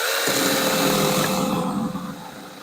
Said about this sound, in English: use your one-handed saw, and just cut right through it